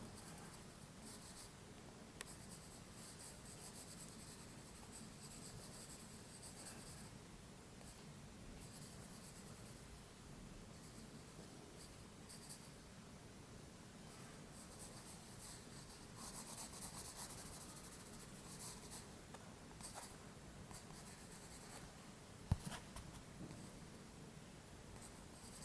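Soft, steady scratching of a 4B pencil on paper laid over tissue, shading tone and stroking in hair on a portrait face drawing, close and quiet with continuous rubbing strokes and no talk.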